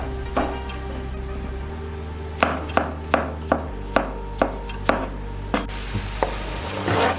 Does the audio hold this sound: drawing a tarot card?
no